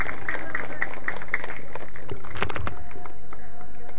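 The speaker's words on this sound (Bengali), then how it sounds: "এই মুহূর্তের জন্য আমরা জোরে একটা করতালি দিতে চাই" Applause from a crowd at a sports-field award ceremony, scattered and uneven, with a few sharp claps and some background murmur and movement, fading toward the end.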